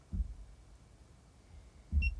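DJI FPV goggles bleep while pairing: two short electronic beeps about two seconds apart, each with a soft thump, over quiet room tone.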